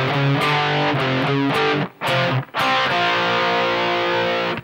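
A distorted electric guitar plays the closing phrase of a riff, loud and close, with two brief breaks before a held, ringing chord.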